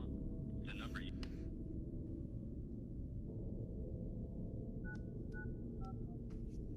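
A telephone keypad dials a call to the police with a quick series of distinct beep tones near the end. The tones sit over a steady low hum, with a brief faint sound a few seconds earlier.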